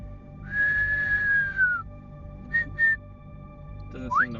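A person whistles nearby: first one long sliding note, then two short notes, then a quick rising whistle at the end, with quiet room noise underneath.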